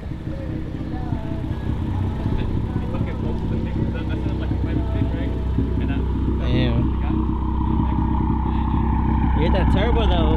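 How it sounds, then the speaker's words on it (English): Infiniti G35 with a six-speed manual swap revving under acceleration, engine note rising steadily and turbo spooling audibly up close, with people talking over it throughout. "You hit that turbo though."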